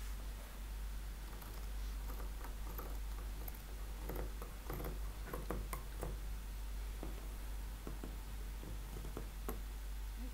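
Scissors snipping through fabric pieces at a sewing table, heard as faint, irregular clicks and crisp snips over a low steady hum, fairly close and quiet, with no voices.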